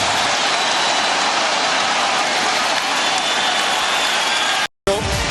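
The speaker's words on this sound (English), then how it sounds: "And this crowd erupts." Basketball arena crowd at an NBA conference finals Game 5 roaring in sustained, loud, dense cheering and applause that fills the space, cutting off abruptly near the end.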